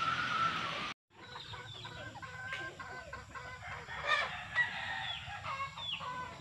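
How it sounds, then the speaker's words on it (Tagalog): Chickens cluck and cackle in a busy chorus, with a rooster's crow mixed in, moderately close over a low background hum. "Ayan, maraming manok."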